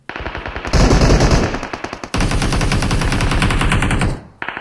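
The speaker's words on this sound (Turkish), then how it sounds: "Etrafımda mermi sesleri durmuyor, susmuyor." Loud, sustained automatic gunfire from the PUBG Mobile battle royale on the Sanhok map, with dense rapid bursts that break off briefly around the midpoint and then resume before stopping near the end.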